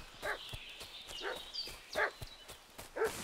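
A dog in Kingdom Come: Deliverance II barks in short repeated bursts about once a second, moderately close, over a faint steady ambient bed with no talking.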